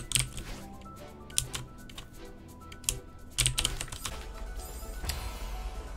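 Computer keyboard keys clatter in quick, irregular bursts of clicks and taps as someone plays a game with the keyboard, close and crisp, with no speech.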